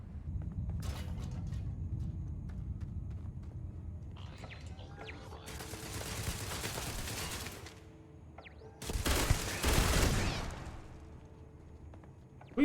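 Gunfire in the video game Starfield: two rapid bursts of loud automatic shots, the second harsher and closer, set between quieter stretches of game ambience with faint chirps.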